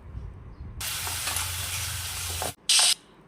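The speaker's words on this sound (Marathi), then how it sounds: "आता तडक्यामध्ये घातलेल्या डाळी हिरव्या मिरच्या कढीपत्ता तीन ते चार मिनटं आपल्याला चांगला व्यवस्थित कंटिन्यू परतून घ्यायचं आहे मंद गॅसवर" A tadka of dals, green chillies and curry leaves sautéing in hot oil over a low flame, a steady close sizzle that cuts off abruptly before a short loud hissing burst.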